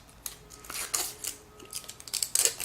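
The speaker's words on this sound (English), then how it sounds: "I'll go ahead and peel it off plastic." Protective plastic film peeled off a new 2010 iPod Nano, faint close crinkles and quick scratchy peeling sounds in short bursts.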